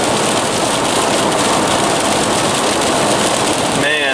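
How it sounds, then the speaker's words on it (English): Rain drums steadily on a vehicle while driving toward Deer Lodge, Montana, a loud continuous wash of noise with engine rumble beneath and a brief squeak near the end. "The rain is not that big of a deal, I guess, per se."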